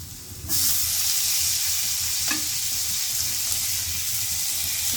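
Potatoes dropped into a pan of frying onions and cumin set off a sudden, loud, continuous sizzle that stays strong and even throughout, with a brief clink partway through.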